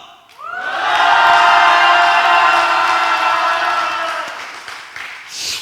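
A church congregation lets out a loud, sustained shout and cheer for the Lord that swells quickly, holds for several seconds, then fades.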